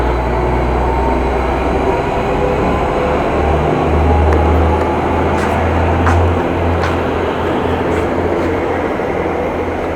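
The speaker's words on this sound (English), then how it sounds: "there's a train. It's just coming in." A train rumbles into Groningen Noord railway station with a deep, steady low drone and rolling noise, joined by metallic clicks and clanks over the wheels.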